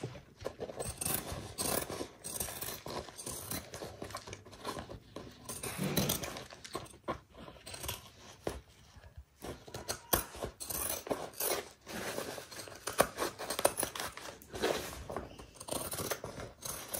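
Scissors trimming fabric on a Sequoia bag being sewn, with repeated close snips and rustling rubs in irregular bursts.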